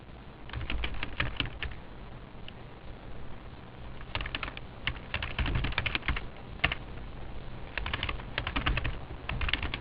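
Typing on a computer keyboard while entering accounting data into business software: soft, quick keystrokes in irregular bursts with short pauses between them, close and fairly quiet, with no talking.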